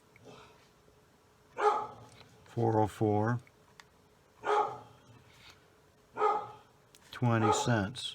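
A dog barks several times in short bursts, spaced a second or so apart, fairly close, with a person speaking briefly between barks.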